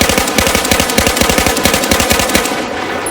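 Loud, rapid automatic gunfire from the Battlefield video game, aimed at a moving enemy, with shots in an even, fast rhythm that continue for about two and a half seconds before easing off.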